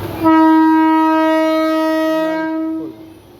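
A passenger train departs a station in heavy rain, sounding a long, loud, steady horn blast close by that tapers off after about three seconds.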